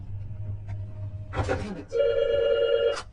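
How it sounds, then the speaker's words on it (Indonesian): A telephone rings with one clear electronic trill burst in the second half, after a short rustle, with a faint low hum beneath and no competing voices. "Telepon kembali berdering"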